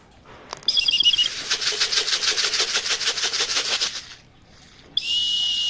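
Racing pigeon wings flap in a rapid, fluttering burst lasting about three seconds, close and fairly loud, then a short pause before a brief whistling hiss.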